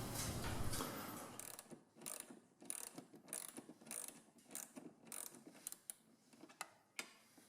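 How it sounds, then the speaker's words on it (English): Hand ratchet loosening fairing nuts on a Harley Road Glide, steady rapid clicking of the pawl in close, irregular strokes, fairly quiet, no voices. "the handle of your ratchet doesn't accidentally hit the tank as you're loosening or tightening the nuts"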